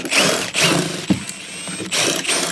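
Ratchet wrench loosening bolts on a rusty, garage-kept DeLorean: quick bursts of close, loud clicking, several runs separated by brief pauses and one sharp knock, with no talking.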